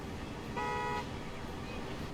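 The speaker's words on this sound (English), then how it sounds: "Let's honk the horn one more time" A rail bus horn in Transport Fever 2 sounds one short, mid-clip toot over quiet game ambience.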